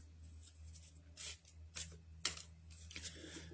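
Soft, papery riffling bursts of playing cards being shuffled, several short rustles in an uneven rhythm, quiet and close.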